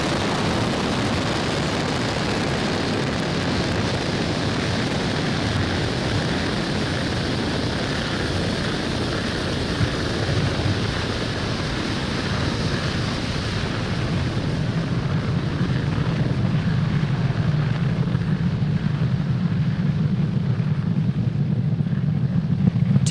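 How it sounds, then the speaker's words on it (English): A SpaceX Falcon 9 rocket lifts off from Pad 40 at Cape Canaveral Space Force Station, a steady broad roar like distant rushing wind that holds throughout and swells with deeper rumble in the final seconds. "Falcon 9 has successfully lifted off from Pad 40 at Cape Canaveral Space Force Station"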